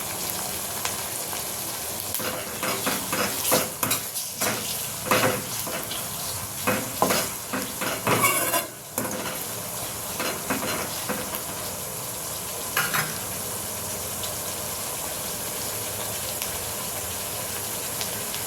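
A large tomato fries in a pan for Kathiyawadi brinjal oro, a steady close sizzle with intermittent stirring scrapes and bursts of spitting that continue throughout.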